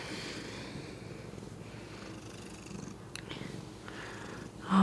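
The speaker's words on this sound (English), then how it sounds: "you can probably hear this cat purring too" A domestic cat purrs in a steady, continuous low rumble close by, with no talking over it.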